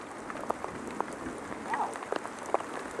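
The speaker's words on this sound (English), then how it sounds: "There's the hail." Hail falls outdoors during a cold wilderness survival trip, a dense rattling patter of chunks striking and bouncing around, broken by sharper nearby impacts.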